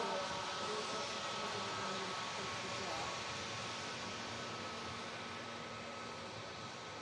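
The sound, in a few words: Boeing Dreamliner airliner rolling for takeoff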